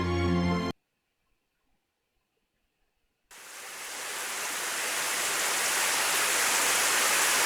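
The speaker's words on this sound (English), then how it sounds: "Suddenly, it started raining." After a short tone and a few seconds of silence, a dense hiss of falling rain starts suddenly and slowly swells louder.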